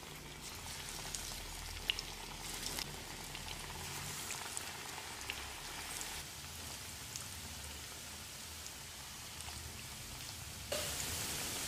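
Moong dal and potato pakoda batter dropped into hot oil over moderate heat, giving a dense, even hiss of bubbling oil close by that swells slightly near the end, with no voices.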